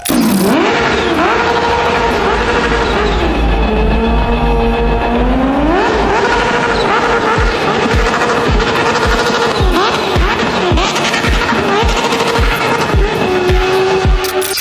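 A loud, close motorcycle engine revs hard and continuously, pitch climbing and falling through gear changes, with a rapid throbbing exhaust beat throughout.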